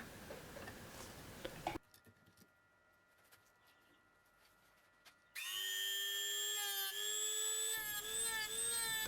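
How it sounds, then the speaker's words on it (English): A brown carbide burr on a high-speed rotary tool whines as it textures a turned wood piece, a steady high-pitched tone that starts after a quiet stretch and runs to the end. "The first tool I'm using here is a brown carbide burr."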